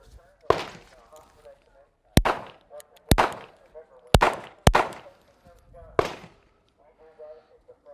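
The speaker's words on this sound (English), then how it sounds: "shoot around the barricade, put a couple rounds on each target" A SCCY CPX-2 pistol fires at targets around a barricade, six loud, sharp shots in an irregular rhythm with ringing echoes after each.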